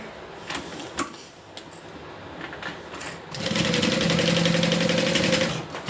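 A sewing machine stitches fabric in a fast, steady whir for the last few seconds, preceded by scattered clicks and handling knocks of the machine and cloth.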